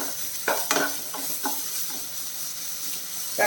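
A spoon stirs ground coconut paste into cooked, salted raw jackfruit in a pan over low flame, giving several soft scraping strokes over a gentle steady sizzle, close and unhurried with no talking.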